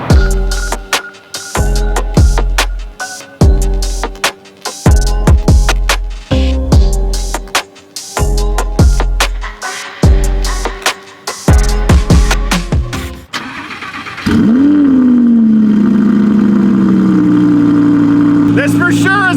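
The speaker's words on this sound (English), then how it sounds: "This for sure is one of the loudest exhausts I've heard on startup." Cold start of a 2018 Audi R8 RWS fitted with an FI exhaust: loud, sharp revs blast out in repeated bursts about once a second, then the engine settles into a steady, droning high idle.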